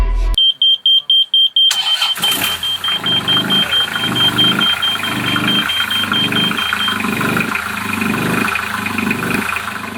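A run of short electronic beeps, then a sailboat's newly installed inboard engine cranks, catches on the first try and settles into a steady, throbbing run close by.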